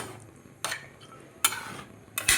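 A lid goes onto a pot of simmering meat curry with three separate metallic clanks, each a short bright clatter with quiet bubbling between them.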